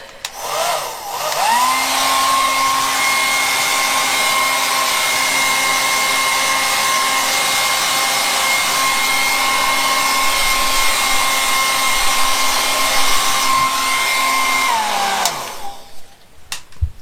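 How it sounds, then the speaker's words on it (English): A hairdryer blows steadily over wet resin to burst surface bubbles, a loud, even whooshing hum with a constant whine that runs unbroken for about fifteen seconds, then clicks off into quiet. "go over with a hairdryer"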